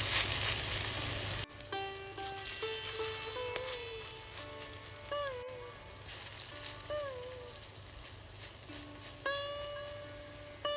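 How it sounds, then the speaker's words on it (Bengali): Soft, steady sizzling of prawn-head fritters frying in mustard oil runs throughout, fairly quiet, with a gentle melody playing over it. "গরম তেলে দিয়ে ভেজে নেব"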